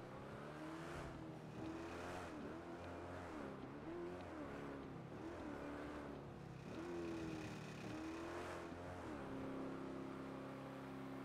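A car engine stuck in first gear in the NoPixel roleplay video game, revving repeatedly in high, strained surges with rising and falling pitch, steady and continuous without speech.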